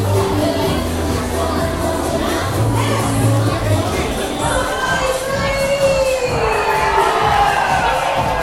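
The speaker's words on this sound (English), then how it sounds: "You got some people screaming" Loud crowd aboard the Disney Dream cruise ship, with cheering and children shouting and screaming in a dense continuous roar.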